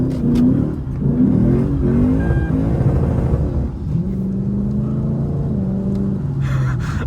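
A Lexus IS F with a 5.0L V8 accelerates hard on a rain-soaked road, its engine droning and rising through the gears with steady loud rumble and wet road hiss throughout, no talking.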